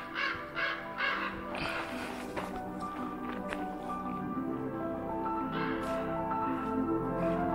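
A crow caws several times in a row on an outdoor hiking trail, the harsh calls fairly close and repeated in short bursts over steady background noise, with faint rustling and footsteps.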